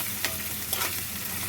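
Green chillies, curry leaves and turmeric fry in a pan while being stirred, giving a steady close sizzle with a couple of brief scraping stirs, and no voices.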